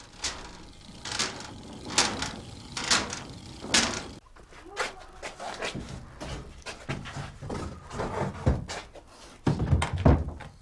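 An old pine wooden door is handled in a salvage setting, giving a series of knocks, thumps and scrapes at close range, with a voice speaking briefly in between.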